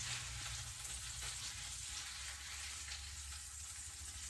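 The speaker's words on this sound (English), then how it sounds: "frying it on each side for about 3 to 5 minutes" A folded beef and cheese tortilla fries in a pan, giving a steady, close crackling sizzle that stays even and unbroken from start to finish.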